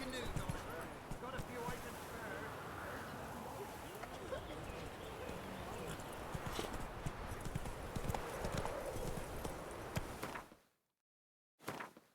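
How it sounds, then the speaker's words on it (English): Horse hooves trotting in the Witcher 3 video game, a steady loud clip-clop rhythm over ambient birds and background noise, then cutting to near silence at the end. "That's it, Roach"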